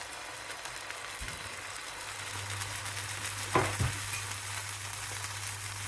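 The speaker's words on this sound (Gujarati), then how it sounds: "પહેલાં તો જો મેં ગરમ તવા ઉપર થોડુંક તેલ લગાવી દીધું છે" Food cooking on a hot griddle greased with a little oil gives a steady, close sizzle and frying hiss, with a low hum underneath and a few short scraping or clinking touches partway through.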